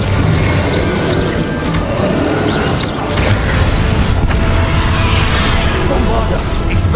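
Confringo spell blasts and combat effects in the video game Hogwarts Legacy form a loud, dense wall of booms and rumbling. A voice shouts over the steady barrage.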